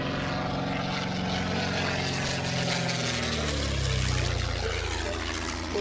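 A Rolls-Royce Merlin aircraft engine turns over at a low, steady idle, a close, throbbing propeller drone that holds evenly for several seconds.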